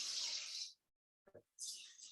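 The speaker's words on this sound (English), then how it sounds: "now with my crushed tomatoes, I usually like to add a little bit of water to it" Water runs from a tap in two short bursts with a pause between, separated by a faint clunk, for adding to a can of crushed tomatoes for chili.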